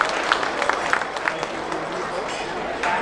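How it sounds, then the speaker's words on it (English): Audience applause at a fall feast dinner in Toronto, a steady crowd clapping throughout with busy hall noise and chatter mixed in, moderately loud. "Let's give him a big round of applause."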